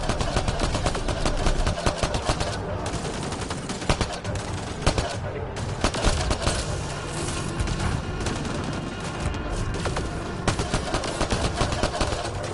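Dense, continuous gunfire from the video game Mass Effect Andromeda, rapid automatic bursts and sharp shot cracks layered over a steady battle din, loud and close throughout with occasional heavier blasts.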